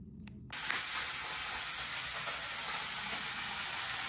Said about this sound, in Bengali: তেলটাও গরম হইলে তারপরে মাছটা দিব